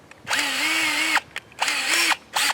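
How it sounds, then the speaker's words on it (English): A power drill fitted with a masonry bit whines loudly and steadily up close, running in three bursts of about a second each with brief gaps between, the motor pitch wavering slightly as it spins. "So you take this and put it in your drill"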